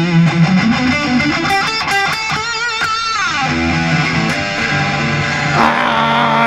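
An electric guitar is played through an Electro-Harmonix Crayon overdrive pedal, loud and gritty, with picked notes and bends, a brief pitch slide in the middle and sustained overdriven tones to the finish.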